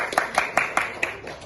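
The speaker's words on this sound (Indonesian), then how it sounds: "Kita beri tepuk tangan dulu yang baca." A handful of sharp hand claps in a classroom, about six crisp beats in quick, slightly uneven rhythm, fairly close and moderate in loudness.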